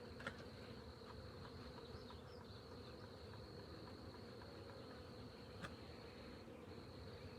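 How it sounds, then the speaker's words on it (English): A honey bee swarm hums as a steady, dense drone throughout, with a thin high whine running over it and no talking. "I can put the swarm right in the center with the queen and her brood nest and all her bees"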